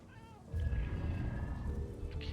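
A cat in the game Murdered: Soul Suspect lets out drawn-out meows, a long wavering call starting after a brief quiet moment and carrying on close and clear to the end.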